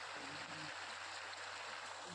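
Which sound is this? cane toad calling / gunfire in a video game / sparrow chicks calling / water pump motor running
water pump motor running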